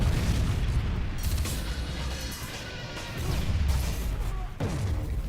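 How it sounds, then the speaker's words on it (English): A Predator missile strike in the video game Modern Warfare 3, heard as sustained loud rumbling booms and crashing blasts that roll on continuously with a few sharper impacts, up close and without talk. "Friendly Predator missile inbound."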